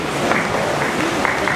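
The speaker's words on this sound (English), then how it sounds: "So let's have a big applause for Kiran." A literature festival audience applauds author Kiran in a hall, a steady, even wash of many hands clapping with no voices on top.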